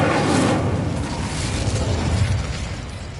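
Incendio fire spell cast in the wizarding game Hogwarts Legacy, a loud whooshing burst of flame that flares at once and then rumbles and crackles as it fades over a few seconds.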